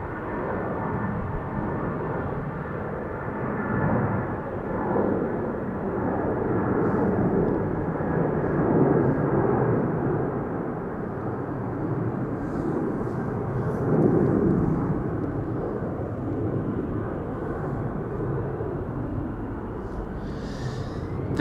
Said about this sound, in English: A heavy hitter taking off from center. Turkish. A330 on its way to Istanbul.